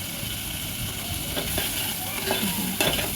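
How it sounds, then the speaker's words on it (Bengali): Ginger garlic paste sizzles softly in a pan while beef liver is sautéed, a low steady frying hiss with occasional stirring scrapes. "আদা রসুন বাটাটা দেওয়ার পরও অবশ্যই আরও ভালোভাবে কষাতে হবে"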